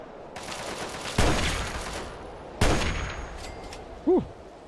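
Gunfire from a weapon in Fallout 3, two loud sharp shots a second or so apart followed by a third shorter burst, each with a ringing decay, with no talk over them.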